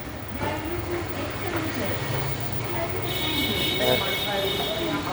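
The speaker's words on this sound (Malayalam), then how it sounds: "നമ്മൾ മെട്രോ കയറാൻ പോവുകയാണ്" A metro train rumbles steadily along with a constant low roar and a high whine, while voices are heard faintly beneath the noise.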